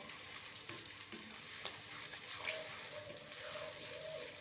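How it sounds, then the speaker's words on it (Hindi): Tomatoes stir-fried with mixed vegetables such as potato, peas and carrot in a pan give a steady, soft sizzle and frying hiss. Light scraping stir strokes recur throughout, with no talking. "और इसको अच्छे तरीके से भून लेते हैं।"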